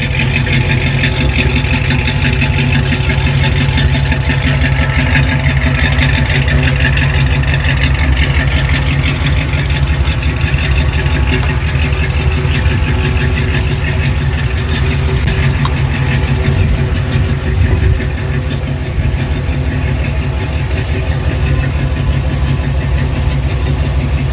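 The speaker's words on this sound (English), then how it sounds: "You're just not going to get that kind of exhaust note with a modern Jeep." The old V8 of a 1978 Jeep CJ-7 idles with a deep, loud, steady exhaust rumble, close by and alone, holding an even burble throughout.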